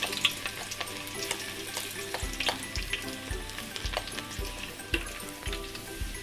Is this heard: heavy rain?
no